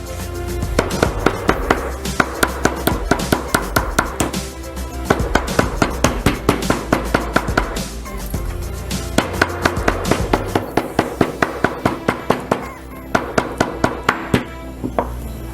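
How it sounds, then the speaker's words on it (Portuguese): Steady, rapid hammer blows on a sewn fabric pouch strike over and over in a continuous rhythm, loud and close, with only brief pauses. "E agora a gente vai dar umas marteladas"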